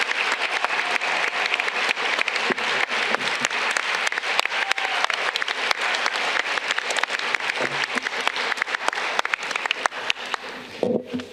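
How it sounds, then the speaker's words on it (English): Sustained applause from a large commencement audience, dense steady clapping that continues for about eleven seconds before thinning out near the end. "Can we have one more healthy round of applause for the 2023 class of Romance Languages and Literatures?"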